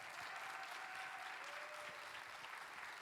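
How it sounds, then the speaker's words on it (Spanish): Festival audience applauding a speaker after a film masterclass, a continuous broad wash of clapping heard at low level and some distance, with a faint tonal whine running beneath. "Por favor, démosle un fuerte aplauso a Pablo Branco."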